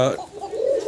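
A single short, low cooing call from a pigeon, close and moderately loud, with a soft rolling tone.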